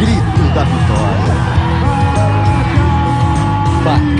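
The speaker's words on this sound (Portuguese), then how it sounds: "os nativos Maori da Nova Zelândia, ouviram o grito da vitória." Maori athletes at an indigenous games event shout a loud collective victory cry, a dense roar of yelling voices and whoops that fills the whole stretch.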